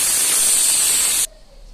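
Pressure cooker holding chopped taro and potatoes with salt and a little water lets out a loud, steady steam hiss that cuts off abruptly, leaving near silence.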